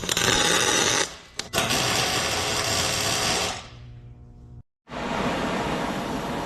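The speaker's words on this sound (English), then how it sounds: "we're gonna weld these first and see how this goes." Welding nuts during a Ford Explorer engine swap into a Mustang: loud, close broadband crackling and buzzing that runs in long bursts with brief breaks, then fades out near the four-second mark and starts again after a short silence.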